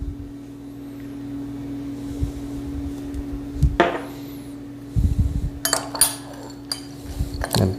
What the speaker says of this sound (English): just mix it in with the nuts